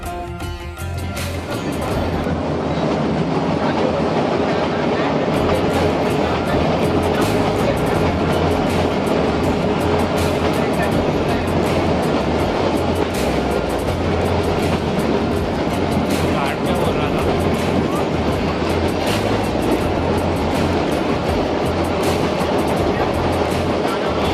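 A passenger train on a slow Rajasthan rail route rumbles steadily and loudly throughout, with a continuous clatter of wheels and carriages.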